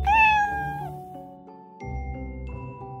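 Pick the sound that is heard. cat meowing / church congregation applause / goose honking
cat meowing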